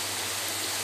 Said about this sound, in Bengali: পেঁয়াজের মধ্যে অল্প নুন দিয়ে পেঁয়াজটাকে ভেজে নিচ্ছে